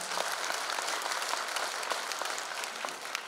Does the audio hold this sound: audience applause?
yes